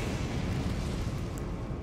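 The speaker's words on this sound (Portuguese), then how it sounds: "Caramba, tem um canhão ali." A cannon fires in Elden Ring's Shadow of the Erdtree expansion, heard as a dense, sustained low rumble that stays loud and steady throughout, with no voices.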